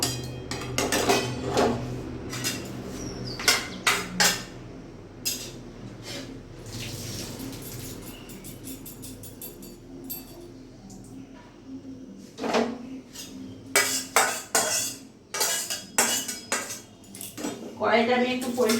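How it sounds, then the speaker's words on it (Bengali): A pot of boiled figs lifted off the stove, several loud metal clanks and knocks of cookware in bursts, with quieter stretches between them. "এবার আমি এটা নামিয়ে ফেলবো"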